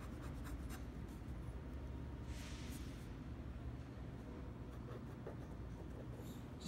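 Pen or pencil sketching on paper over a cutting board, a quiet continuous scratching with short strokes and brief louder scribbles, steady and close, with no talking.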